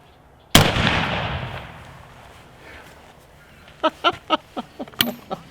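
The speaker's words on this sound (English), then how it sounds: "Cannon fire." Cannon fire: one sharp, loud boom that rolls off into a long decaying rumble, followed by a quiet stretch and then a run of short clicks and thuds nearby.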